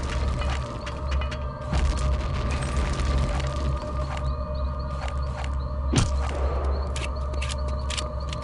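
Grenade explosion in Return to Castle Wolfenstein: a sharp, loud game blast lands partway through, against a busy backdrop of clanking mechanical game sounds and crackling bursts.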